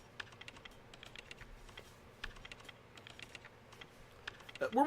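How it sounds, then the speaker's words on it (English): Clicks from a computer keyboard come in a soft, uneven patter. A louder burst, likely a voice, rises at the very end. "Listen to that keyboard sound."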